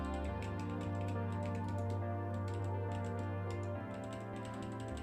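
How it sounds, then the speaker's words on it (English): Rapid, dense typing on a computer keyboard while coding, with close, crisp key clicks in uneven bursts over a steady low hum and no talking. "Wow, typing is really hard."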